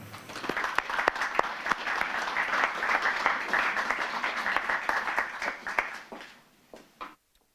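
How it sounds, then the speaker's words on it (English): Mourners at a funeral give a round of applause, a sustained, fairly close wave of many hands clapping that tapers off and stops near the end. "we like to honour this effort by giving a round of applause both on the way up to speak and afterwards when they finish."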